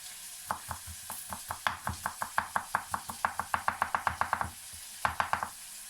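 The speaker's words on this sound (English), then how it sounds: "Rough chop." A knife rough-chops garlic on a cutting board with steady, rapid thuds, about two dozen even strikes in quick rhythm, close and clear, pausing briefly before a final short burst.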